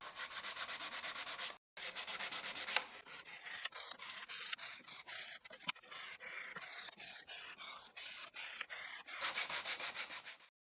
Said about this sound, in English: Next, I'll sand these areas by hand.